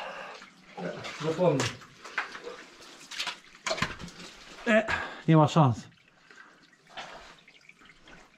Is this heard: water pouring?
yes